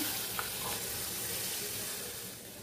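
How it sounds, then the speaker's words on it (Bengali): Water poured from above into a pan of prawn curry with taro, a steady broadband rush and faint sizzle running close and continuous for the whole stretch, easing slightly at the end. "এইবার জল দিয়ে দিচ্ছি উপর থেকে,"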